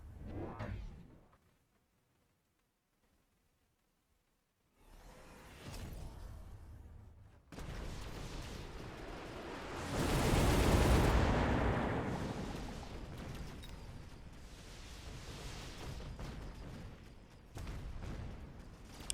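A missile strike in a strategy tabletop-style game lands with a big rumbling whoosh and explosion that builds to a loud peak midway, preceded by a near-silent gap and trailing off into a sustained roar.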